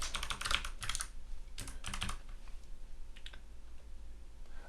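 Code being typed on a computer keyboard for a React on Rails sign-up component: close, quiet clicky keystrokes in quick bursts with short pauses, no talking.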